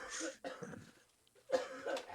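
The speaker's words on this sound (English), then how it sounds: "Sorry, I was coughing." Two short bursts of coughing, a pause of quiet between them, close to the microphone with no talking.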